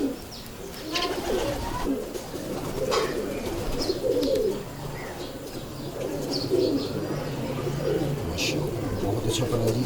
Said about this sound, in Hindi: ये जी मैं आपको रामपुरी कबूतर दिखा रहा हूँ।